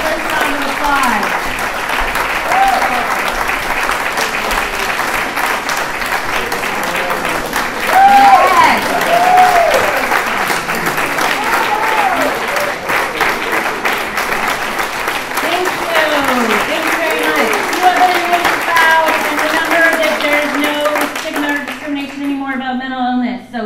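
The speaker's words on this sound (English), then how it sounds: "All the comedians up here for one more fabulous round of applause." A comedy-show audience claps and cheers for the comedians in a long, dense round of applause, with a voice speaking over it and the clapping thinning out at the very end.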